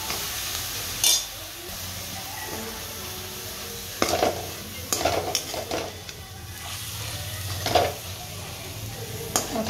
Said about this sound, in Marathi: आता चांगली याला परतून घेते.